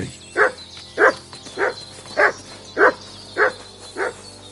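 A dog named Mats barks in the Kingdom Come Deliverance 2 video game, seven evenly spaced, moderately loud woofs at a steady rhythm, with no talking over them.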